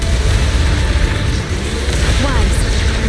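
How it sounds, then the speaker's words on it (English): Explosions in the video game Zenless Zone Zero rumble as a dense, loud booming roar with bursts and pops, blended with game effects and a voice speaking over them. "Move in during the gaps between explosions."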